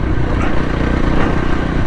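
Voge 300 Rally motorcycle engine running steadily while riding over a loose, bumpy gravel and rock trail, a close, continuous low throb mixed with wind and rough-terrain rumble.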